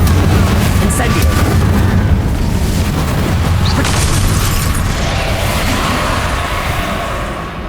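A fiery Confringo spell blast in Hogwarts Legacy, a loud sustained booming roar that slowly fades over the clip amid chaotic spell-fight noise.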